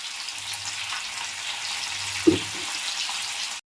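Curry leaves and chopped onions frying in hot oil, a steady broadband sizzle throughout with one brief clatter midway and a short silence near the end; no talk.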